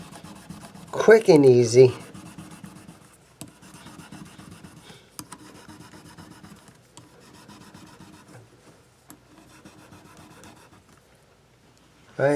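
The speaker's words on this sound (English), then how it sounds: "Let's just see if we can shine these frets up a little bit. 1000 grit sandpaper." Fine 1000-grit sandpaper rubs across the frets of an Epiphone SG guitar, soft close raspy strokes with light taps, after a brief spoken remark at the start.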